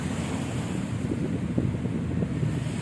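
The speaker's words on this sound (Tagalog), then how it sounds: "maririnig natin ang hampas na tubig niya guys" Sea water slaps and washes against the shore at Dolomite Beach in Manila, a steady close surge of surf mixed with wind noise buffeting the microphone, with no voices heard.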